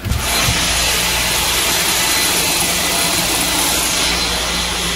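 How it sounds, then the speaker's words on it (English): A table saw runs at full speed with a loud, steady whirring roar that holds unchanged throughout, with no voices. "That's my table saw."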